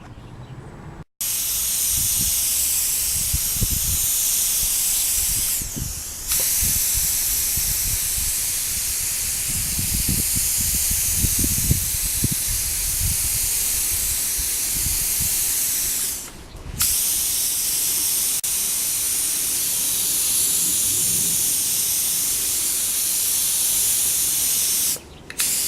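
Spray gun laying a wet coat of 5 Star clear over week-old Rustoleum paint hisses steadily and loudly for long passes, broken by a few brief pauses where the trigger releases, with no talking.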